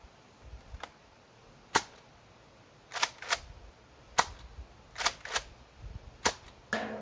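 A Nerf blaster fires foam darts at targets on a home range, giving sharp isolated snaps spaced irregularly over several seconds, some in quick pairs, close and crisp against a quiet background with no talk.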